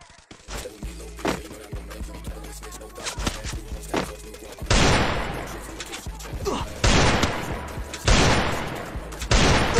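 Rapid bursts of gunfire from a first-person shooter video game, with loud repeated volleys and single shots close up, several heavy bursts in the latter half, and gamer talk over them.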